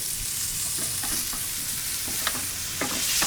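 Smashed garlic cloves hit a hot pan of butter beside searing steaks, crackling in a close, steady sizzle with scattered sharp pops and stirring clicks, and no voices.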